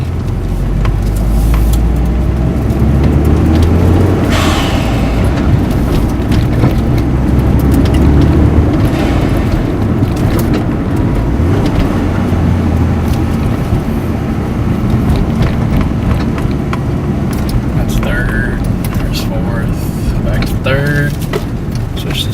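A Mitsubishi Lancer Evolution V CP9A drives along, heard from near the front, giving a continuous close engine drone and road rumble for over twenty seconds, with a few faint clicks near the end.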